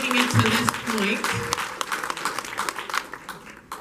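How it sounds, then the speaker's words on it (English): An audience at a graduation ceremony gives a round of applause, with dense clapping that fades gradually. A voice talks over the start of the clapping. "please give yourselves a round of applause for even making it to this point"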